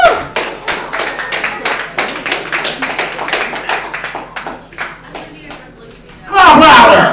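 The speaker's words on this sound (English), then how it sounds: "Please put your hands together for Joe Ellis," An open-mic comedy audience claps for a comedian: a close, uneven patter of hand claps and thumps, then a loud burst of cheering and clapping near the end.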